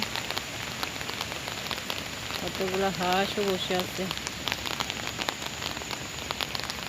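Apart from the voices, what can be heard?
rain falling on a pond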